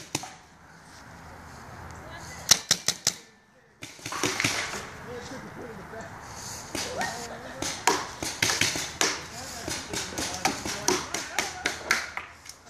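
Paintball markers fire in a game outdoors: a rapid burst of sharp pops, a quiet gap, then a long string of irregular snapping shots at mid distance, with voices talking in the background.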